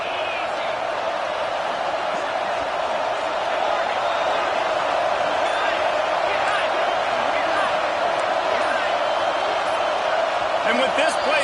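Stadium crowd at an American football game near the goal line, a loud sustained roar of many voices rocking the venue, with a commentator talking over it.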